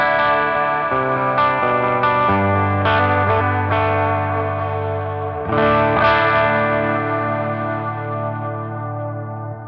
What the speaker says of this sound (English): You can hear the nail bomb high gain pickup. It's pushing the front of that amp quite a bit